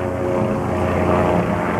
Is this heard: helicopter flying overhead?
yes